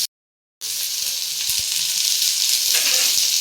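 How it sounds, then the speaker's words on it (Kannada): Chopped onions frying in oil, a brief silence and then a loud, steady hiss of sizzling that carries on unbroken, with faint stirring taps underneath and no voices. "ಈರುಳ್ಳಿ ಸ್ವಲ್ಪ ಬ್ರೌನ್ ಕಲರ್ ಆಗೋವರೆಗೂ ಸ್ವಲ್ಪ ಫ್ರೈ ಮಾಡ್ಕೊತೀನಿ ನಾನು"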